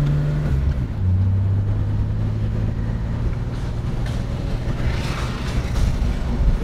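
A bagged Mercedes W108 on air suspension with wide front wheels rolls down a driveway onto the road, its engine giving a steady low drone with a brief rising note near the start and some road rumble beneath.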